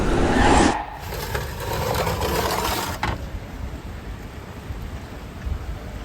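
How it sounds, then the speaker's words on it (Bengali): Heavy morning rain pours down steadily outdoors, loud at first with a brief burst, then continuing as a dense, even wash of falling water with no voices. "সকাল সকাল বৃষ্টি আজকে আমাদের বাইরে হাঁটতে যাওয়া সম্ভব না ভালো বৃষ্টি হচ্ছে"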